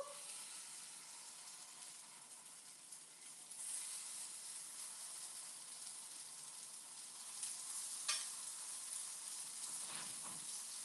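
Rice paper dumplings frying in a very hot pan, giving a steady close hiss and sizzle throughout with occasional louder spatters and crackles, no voices.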